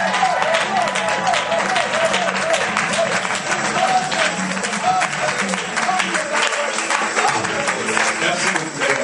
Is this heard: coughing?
no